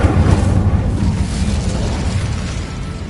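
Incendio fire spell cast in the Hogwarts Legacy video game, a loud sustained roaring whoosh of flame with a deep rumbling boom that holds steady for a few seconds, no voices over it.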